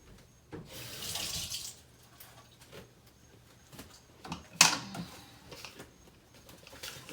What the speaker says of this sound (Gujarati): હવે આપણે આમાં થોડું પાણી રેડીશું બહુ પાણી નથી રેડવાનું આમાં